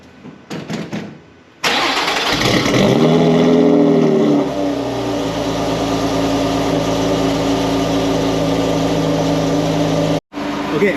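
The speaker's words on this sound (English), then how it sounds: "I've never really heard such a good sounding V6. It sounds a lot like a GTR." A Lotus Evora V6 fires up with a sharp starter catch and a loud rev that swells for a couple of seconds, then settles into a steady, throaty idle before a sudden brief cut near the end.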